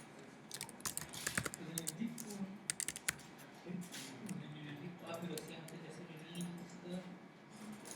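Username and password being typed on a computer keyboard, with brief bursts of key clicks against room noise while someone talks over them.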